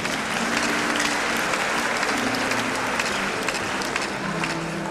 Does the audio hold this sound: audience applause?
yes